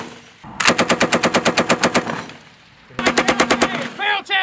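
Machine gun firing at a target reference point during an Army air assault exercise, two loud close bursts of rapid rhythmic shots separated by a short pause, with a brief voice at the end.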